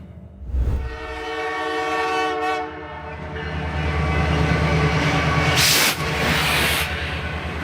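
A Canadian Pacific Holiday Train rolls past close by, its loud horn sounding in long sustained blasts over the steady rumble and clatter of rail cars, with a brief break before the horn resumes.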